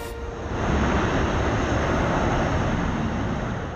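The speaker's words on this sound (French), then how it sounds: "un avion d'un genre un peu particulier est en train de décoller. Ce Boeing 747 est utilisé par la NASA" NASA Boeing 747 taking off from Palmdale airport in California, a loud broad jet engine roar swelling early and then holding a sustained rushing thunder to the end.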